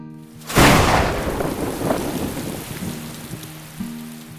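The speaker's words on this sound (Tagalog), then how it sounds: "biglang bumuhos ang napakalakas na ulan." Heavy rain pours down in a dense, steady roar that starts suddenly with a loud burst and continues close by.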